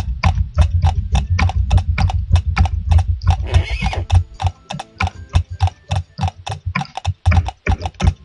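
Rapid, regular clip-clop of horse hooves in a video game, loud and close, with a brief whinny partway through.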